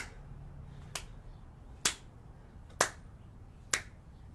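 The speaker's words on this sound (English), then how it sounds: "your hands can clap as they come forward" Four sharp claps, spaced about a second apart in a steady rhythm, standing out clearly over a quiet background.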